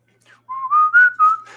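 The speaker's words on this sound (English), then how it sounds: "Whistling makes my gums hurt." Melodic whistling by a single person, a rising tune of several sustained notes in quick succession, close and fairly loud, with no talking.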